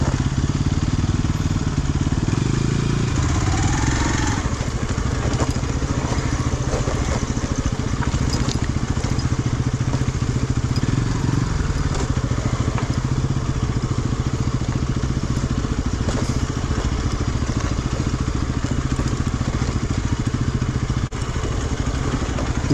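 Motorcycle engine revving and clattering steadily while riding off-road at night through rough terrain, loud and close throughout with no talk.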